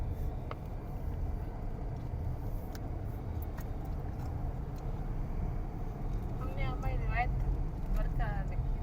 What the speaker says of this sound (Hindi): ये काजी अहमद का बाजार और भरपूर ट्रैफिक के साथ